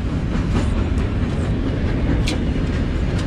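A train rumbles past close by along Sandusky Bay, Lake Erie, a loud continuous roar with rattling, clacking wheels over the tracks.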